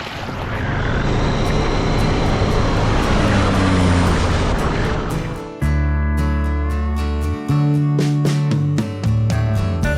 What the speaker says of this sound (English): The fastest and most efficient way of applying rice seed to the field is to hire a crop duster.